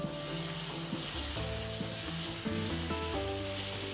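Frying onions with tomatoes and fresh coriander in a pan for Punjabi dal tadka give a quiet, steady sizzle as they are mixed, under soft background music.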